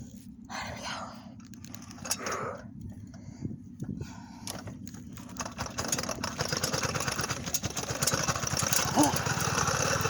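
A two-stroke motorbike engine runs on full choke, idling roughly with an uneven, sputtering beat that grows louder and steadier toward the end, while a voice talks near the start.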